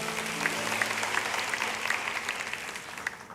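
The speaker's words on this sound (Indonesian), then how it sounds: "kasih tepuk tangan, welcome home" Congregation at an Easter Sunday church service clapping together, a sustained even patter of many hands that slowly fades toward the end, with a faint tonal hum underneath early on.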